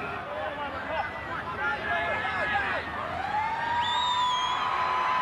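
A siren wails at a 1996 North Sydney versus St George rugby league match, its rising and falling tones sounding clearly under continuous commentary and crowd noise.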